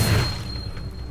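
A Confringo spell explodes in Hogwarts Legacy, a single deep boom that bursts loudly and then rumbles away over about a second.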